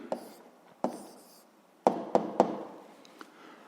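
A pen writes down the answer to a school physics exercise on paper, producing a few soft scratches and sharp taps spaced irregularly, close and quiet.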